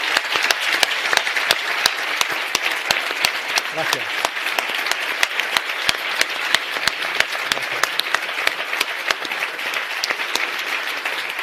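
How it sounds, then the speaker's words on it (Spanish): Dense, steady audience applause fills a Spanish-language talk or political event, many hands clapping loudly and continuously throughout, with a single brief spoken word of thanks near the end. "Y sí que os voy a pedir un aplauso para toda esta gente porque es increíble."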